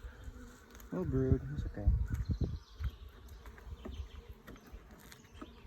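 Carniolan honey bees buzz steadily around an opened hive during an inspection, a close, busy hum running throughout while a person talks briefly over it.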